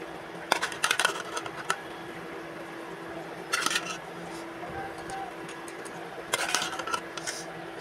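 Fish pieces dropped one by one into a frying pan of cauliflower and tomato curry, giving a few short clattering, sizzling bursts spaced several seconds apart, fairly faint over a low kitchen background.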